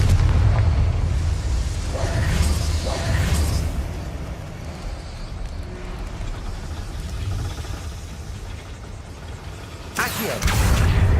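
Confringo blasting curse explosions in the video game Hogwarts Legacy: booming, rumbling blasts with a heavy low end, a pair of bursts early on and another sharp blast near the end over a constant background roar.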